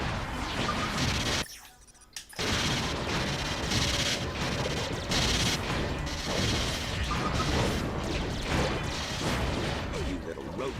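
In Ratchet: Deadlocked, Ratchet fires an Omnishield launcher during a boss fight, producing dense, repeated blasts and crashes throughout, with a brief drop to near silence early on before the barrage resumes.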